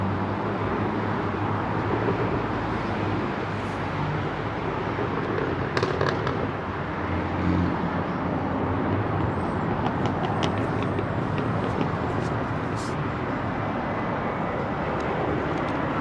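An ex-KLM Boeing 747 Combi freighter departing runway 27 right at London Heathrow, a powerful, continuous jet engine roar with crackling rumble, loud and sustained throughout.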